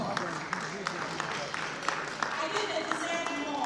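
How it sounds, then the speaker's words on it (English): An audience at a business awards summit applauds steadily, a continuous spread of claps with occasional sharper hits, while a voice speaks over it. "Please let's give them a round of applause."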